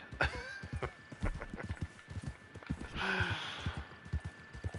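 A horse in the Red Dead Online video game walks with soft, fairly steady hoof clops, and a brief breathy snort or sigh from the animal comes near the middle.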